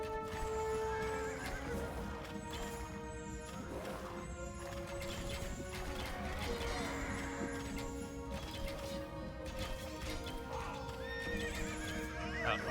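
Horse archers riding in Age of Empires 2, with steady galloping hooves, whinnies and neighs over busy battle game sounds and background music, continuous throughout.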